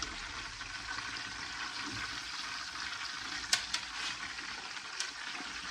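A bone-in chicken breast fries in a pan with a steady, fairly quiet sizzling hiss, broken by a few sharp pops of spattering oil.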